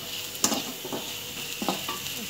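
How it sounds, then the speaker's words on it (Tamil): Onions sizzling steadily in a pan for radish sambar, with a few scraping stirs of a spoon against the metal standing out over the continuous hiss of frying. "வெங்காயம் வந்து நல்லா வதங்கணும்"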